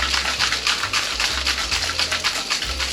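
Ice rattles hard in a cocktail shaker mixing a Mind Eraser with RumChata, a quick steady run of sharp shaking bursts over a low background hum.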